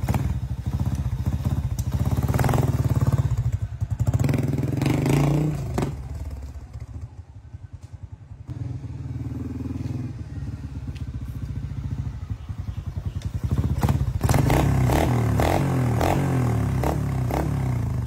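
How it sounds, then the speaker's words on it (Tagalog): An old motorcycle nicknamed Side Green, just restored, runs on a test with a steady low engine drone, several revving surges and some clattering mechanical noise, and no talking. "lolo-test na natin yung motor na to si Side Green"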